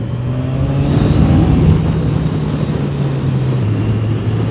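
Kawasaki Ninja 1000cc four-cylinder motorcycle engine running smoothly in Bali, a steady low drone with a brief rise in pitch and a slight shift near the end, loud and close with no talk.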